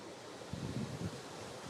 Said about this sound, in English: you can probably hear the rushing of water